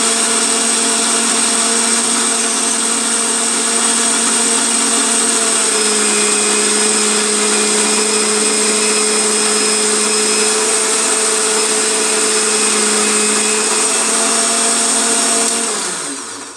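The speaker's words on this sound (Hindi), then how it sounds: "देखिए, अभी प्याज अब पिसा नहीं है, अभी थोड़ा सा मोटा रह गया, तो एक बार हम इसको और ग्राइंड कर लेंगे अच्छे से" An electric grinder purees onion with a loud, continuous high-pitched motor whine that holds steady at close range throughout and then begins to wind down at the very end. No voices.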